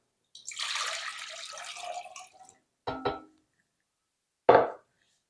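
Water is poured into a pot for a simmered fruit pizza glaze: a close, splashing pour lasting about two seconds, then two short sloshes and a final brief splash.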